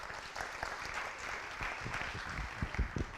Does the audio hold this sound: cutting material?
no